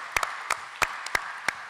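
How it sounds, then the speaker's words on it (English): A room of fans at a Comicpalooza Q&A panel claps for themselves, heard here as a handful of sparse, separate sharp claps spread over under two seconds, faint and thin rather than a full ovation. "give yourselves a round of applause."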